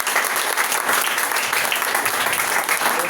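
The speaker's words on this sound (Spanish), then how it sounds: "Un aplauso para la familia Natera." Steady, dense applause from a church congregation during a missionary conference service, sustained and loud for the full stretch with no break.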